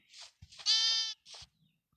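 Sheep in the Minecraft video game bleat several times in quick succession, clear and close, with short silent gaps between calls.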